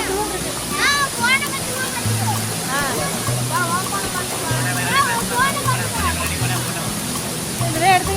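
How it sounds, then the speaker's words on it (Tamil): Hogenakkal's main waterfall gives a steady rushing roar beneath near-constant crowd chatter and voices at the falls. "இருக்கிறதுல இதுதான் மெயின் ஃபால்ஸு"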